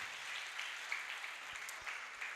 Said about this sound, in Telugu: దయచేసి ఇంకొకసారి చప్పట్లు కొట్టండి